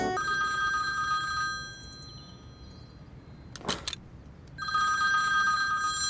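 An old-style telephone bell rings in bursts indoors in a Turkish drama, two clear ringing spells separated by a pause with a short rustle between, no talking.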